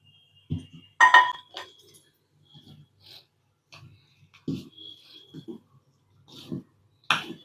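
Bottle gourd adai dosa batter is stirred in a vessel, giving scattered clinks and scrapes of a utensil against the container at an irregular rhythm, close by and fairly clear.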